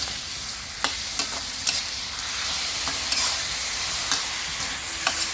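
Bottle gourd stir-fries in a hot pan with black pepper and seasoning powder, giving a steady bright sizzle broken by repeated scraping strokes of a spatula.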